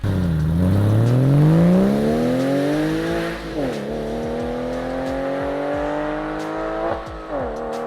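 A naturally aspirated 300 horsepower 3.6 liter flat-six revs hard, its pitch sweeping up then falling back, followed by several shorter blips and gear changes, loud and close with no talking.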